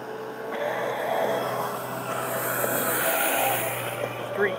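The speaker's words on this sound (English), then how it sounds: "Street sweeper." Street sweeper passing at night, heard from a moving vehicle: a steady broad whooshing, brushing roar with a low engine hum that holds throughout and swells slightly toward the end.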